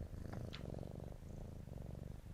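A cat in Vintage Story purrs in a steady, low, rumbling cycle of soft breaths, continuous and close, with no talking.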